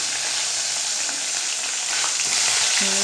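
Mustard seeds, cumin, onion and fresh curry leaves fry in hot oil, giving a steady, close, loud sizzle with faint crackles throughout.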